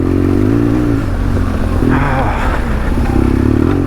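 A custom BMW 1200 GSA motorcycle rumbles close by with a steady low engine drone while riding over a log, with clattering and a brief rise in rough mechanical noise midway.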